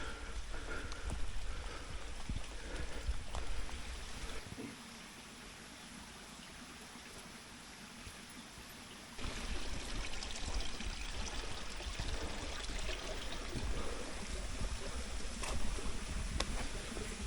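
A small stream rushes and trickles steadily over rocks close by at a trail crossing in Olney State Forest, a constant splashing wash that softens briefly in the middle before returning fuller.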